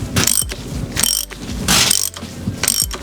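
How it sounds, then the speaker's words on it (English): Rapid clicking of a ratchet snugging down the companion flange nut on the pinion during an RB26 engine build, heard in several close, loud bursts of fast pawl clicks with short pauses between. "we're just going to tighten down the companion flange nut"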